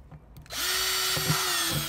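Power drill boring small holes into a plastic bucket, a steady high whine starting after a brief quiet moment and running loud and close with slight bumps as the bit bites.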